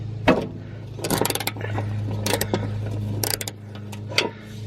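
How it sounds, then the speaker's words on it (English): A ratchet wrench loosens a bolt on a John Deere GX75 blade deck in several quick bursts of close metallic clicking, separated by short pauses, over a low steady hum. "with a ratchet wrench. You need to make sure you're loosening and not tightening"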